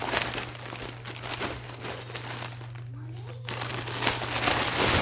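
Crinkling plastic wrap on a paper towel package as it is handled up close, with loud rustling and crackling bursts around a brief quieter pause and a steady low hum underneath, while someone talks.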